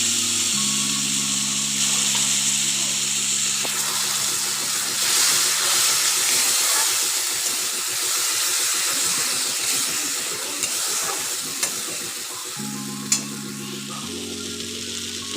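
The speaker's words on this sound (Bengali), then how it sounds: "এবারে এই আদা, পোস্ত, সর্ষে, কাজু বাদামের পেস্টটা দিয়ে দেবো।" Ginger, poppy seed, mustard and cashew paste hits a hot pan with raisins, a steady loud close-up sizzle and hiss that runs throughout, with low humming tones underneath at the start and end.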